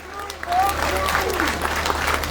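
A crowd applauds at an outdoor political rally in Gyumri, a broad wash of clapping running beneath a voice speaking over loudspeakers.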